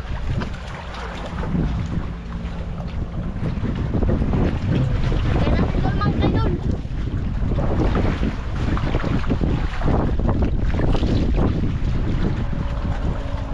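A motorboat passes by on open water, its engine droning loudly under heavy wind buffeting on the microphone, with waves and brief talk mixed in.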